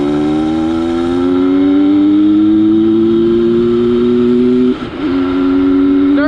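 A Yamaha PW80 dirt bike with an FMF exhaust and Boyesen reeds revs up on a long narrow road, its high buzzing engine note rising steadily and loud, then briefly dipping as it shifts gear before climbing again.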